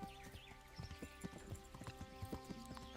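Horse hooves clip-clopping along a road in Kingdom Come: Deliverance, a quick irregular run of soft thuds at a trotting pace, moderately close over a faint background.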